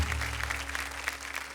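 An audience at a kirtan competition stage show applauds the kirtankar contestants with steady, dense clapping throughout, fairly loud and continuous.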